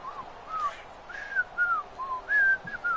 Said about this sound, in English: That's because you're terrible at whistling right now.